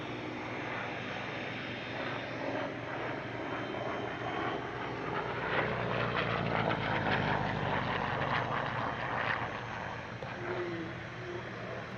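A Yak 11 trainer aircraft flies at the Air Legend airshow at Paris-Villaroche in 2021, its piston engine giving a loud, continuous drone that swells slightly in the middle as it passes.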